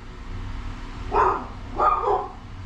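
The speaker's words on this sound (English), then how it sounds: "Why is the dog barking in the middle of a video?" A dog barks twice nearby indoors, two separate barks about half a second apart over a faint low hum.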